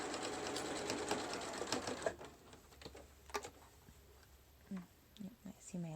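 A sewing machine stitches a seam on a fabric mask with elastic, its fast steady whir running close for about two seconds before stopping, followed by quieter handling sounds and a few soft spoken words.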